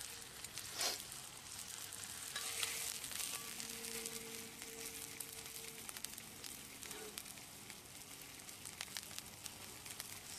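Steady crackling sizzle of pork frying on a hot iron pan, with occasional pops and soft scraping, no voices.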